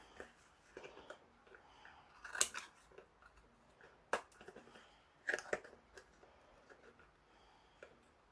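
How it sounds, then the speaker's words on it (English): Scissors trim the excess paper from a gel print in a quiet room, a few sharp close snips spaced out over several seconds with soft handling noise between them. "I'm just going to trim off the excess."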